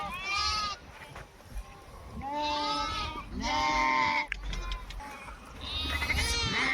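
Goats and young kids on a sheep and goat farm bleat repeatedly, several overlapping calls rising and falling close by over a steady outdoor background.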